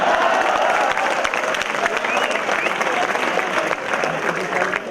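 Dense, steady applause from a university audience at a comedy show, loud and sustained throughout with a faint murmur of voices underneath.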